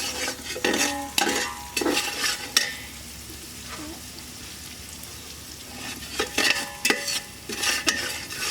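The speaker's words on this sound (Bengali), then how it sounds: "রসুন বাটা হলুদ মরিচ লবণ একেবারেই দিয়ে দিলাম এগুলো এখন তৈলের সাথে কষে নেব" Garlic paste, turmeric, chili and salt being fried and stirred in oil for a prawn and hog plum curry: bursts of loud spatula scraping and sizzling up close, with a quieter frying hiss between strokes.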